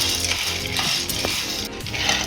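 Dry kidney beans rattling and stirring as they roast in a hot pan, with scattered sharp pops and scraping of a utensil against metal.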